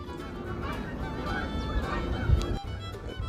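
Geese honk in a clamorous group nearby, overlapping calls against a noisy outdoor background, with a brief thump partway through.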